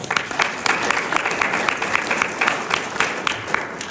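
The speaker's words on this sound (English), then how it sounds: "let's give them a round of applause" An audience at an arts-series event breaks into steady, continuous applause, with many hands clapping together as a dense wash of sound that keeps going throughout.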